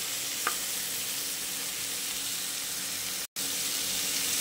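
Raw mango bhaji being stirred and mixed in a pan, giving a steady, soft sizzling hiss that runs without a break apart from one brief cut near the end, with no voices.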